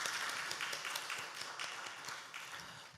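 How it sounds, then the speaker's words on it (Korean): A church congregation at a Sunday afternoon service gives a soft, fairly brief round of applause, many hands clapping in a dense patter that fades out at the end. "우리 박수 한번 하겠습니다."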